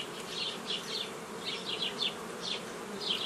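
Honey bees buzz on a brood frame of a hive, a steady dense hum with wingbeat whines that rise and fall close by. No one speaks.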